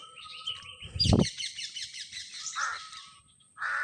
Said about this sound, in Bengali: এটা হলো টিয়া পাখি।